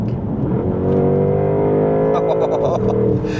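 2025 Porsche Panamera GTS with 8-speed PDK accelerating hard: a loud rising engine roar climbs in pitch, then briefly dips as it shifts up and continues, heard from inside the cabin.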